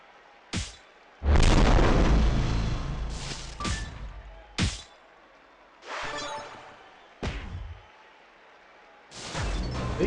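Blast gems detonate in the WWE Champions puzzle game, a string of about six separate booming bursts with short silent gaps between, one long heavy blast near the start followed by shorter, sharper pops.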